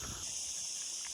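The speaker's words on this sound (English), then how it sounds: "A really nice sound of all the crickets in the bushes." Crickets chirp in bushes at night near an anchorage off Ibiza, a dense steady high-pitched trilling hiss filling the whole moment at low volume, no voices.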